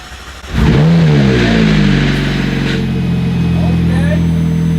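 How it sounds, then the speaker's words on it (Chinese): A McLaren 720S that was in an accident, its battery just recharged and a new fuse fitted, cranks and fires up with a sudden loud roar, then settles into a sustained high-revving drone. Faint warning chimes sound near the end. "这发动机的声浪听得我心潮澎湃。"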